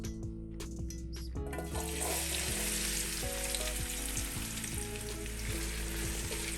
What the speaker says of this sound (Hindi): ऑयल गर्म हो गया। अब इसमें ऐड करेंगे 400 ग्राम प्याज।